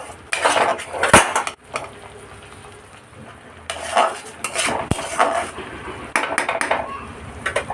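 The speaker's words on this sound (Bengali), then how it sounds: "সবটা দিয়ে ভালো করে নাড়বো।" Ground roasted spices are stirred into a paneer masala in a pan without water: loud, repeated clinks and scrapes of a metal spoon against the pan come in bursts over a low frying sizzle, close by with no speech.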